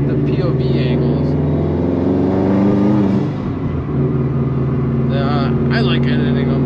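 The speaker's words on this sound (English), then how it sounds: "It's got a fucking nice exhaust leak up here" A Subaru WRX engine with an exhaust leak drones loudly from inside the car, a steady low rumble with a raspy edge that eases briefly before building again, while someone talks over it.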